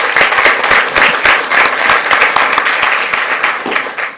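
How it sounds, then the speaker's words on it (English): Audience applause at a school board meeting fills the room with dense, steady clapping from many hands, loud and continuous with no talk over it. "Let's give our students one more round of applause."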